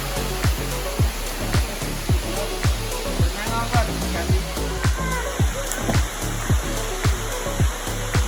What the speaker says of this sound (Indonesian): Wah, air terjunnya sudah kelihatan.